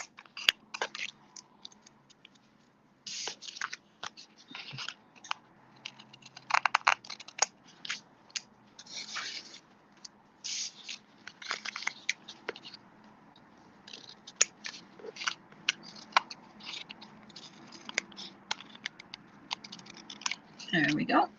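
Scissors trim paper for a twisted ribbon card, giving a scattered series of crisp, close snips and cuts at irregular intervals, with some low voice in the background.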